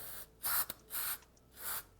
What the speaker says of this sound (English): we'll also spray a little contact cleaner down in there.